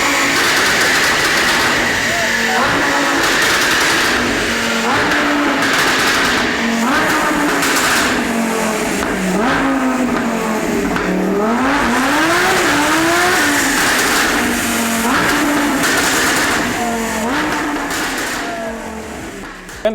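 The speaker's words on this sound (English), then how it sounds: "Let's get the car on the dyno now, see where it runs stock" A stock Audi R8 with a Milltek OPF-back exhaust runs hard on a dyno, its engine roaring loud and continuous as revs climb in stepped surges through the gears for about twenty seconds.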